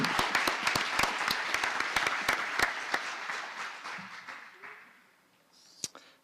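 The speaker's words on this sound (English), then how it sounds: "big round of applause," An audience at a board meeting gives a short round of clapping, with sharp individual claps at first that thin out and die away, followed by a few faint stray sounds.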